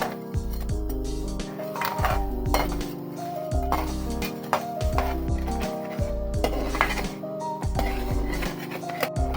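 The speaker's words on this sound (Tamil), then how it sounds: "வெல்லத்தை வடிகட்டி எடுத்துக்கோங்க" Metal vessels clink and knock against each other while melted jaggery is strained in a home kitchen making peanut candy, with repeated close, bright clanks and scrapes in an irregular rhythm over background music.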